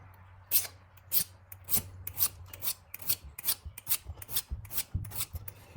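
A file rasps across the bevel of a Zwickey Delta broadhead arrow tip in about a dozen steady, rhythmic strokes, close and clear with no talking.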